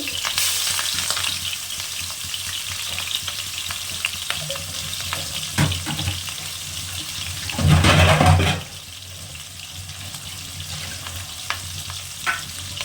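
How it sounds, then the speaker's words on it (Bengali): Pieces of rohu fish fry in hot oil in a pan, giving a steady bright sizzle with a few sharp spits and a louder burst of crackling midway, with no voices. "তেলটা গরম হয়ে গেছে এবার মাছগুলো ভেজে নেবো"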